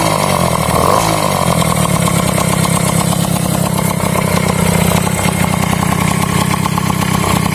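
A small two-stroke moped engine with an 85 jet, restarted after a 200 km running-in, idles loudly and steadily, with a rough, buzzing rattle that holds throughout.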